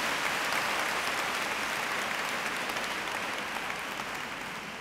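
A church audience applauds during a talk on Mary and true peace, producing a dense, continuous roll of clapping that stays loud and even throughout, tapering very slightly toward the end.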